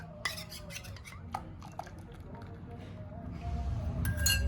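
A spoon stirs dissolved custard into rice kheer, clinking against the pot or bowl in several sharp taps over a low steady background, with quiet talk running underneath.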